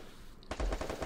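Rapid automatic gunfire erupts in an online shooter match, a loud close burst of closely spaced shots following a moment of quieter background game sound.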